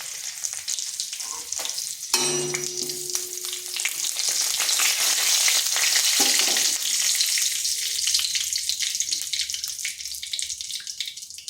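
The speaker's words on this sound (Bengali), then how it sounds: "2 চামচ মতো তেল দিয়েছি। দিচ্ছি গোটা জিরা, একটা শুকনো লঙ্কা আর তেজপাতা।" Whole cumin seeds, a dried red chili and a bay leaf hit hot oil in a pan and sizzle loudly and steadily, the crackle building and then holding, close and with no voices.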